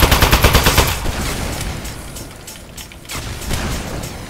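Rapid automatic gunfire from a weapon in a video game rattles in a fast burst at the start, then gives way to a noisy mechanical wash with scattered later shots.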